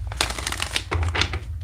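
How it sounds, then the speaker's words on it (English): A deck of tarot cards is riffled and shuffled in quick bursts, crisp papery flutters close to the ear, over a low hum. "Let's get 3 shuffles."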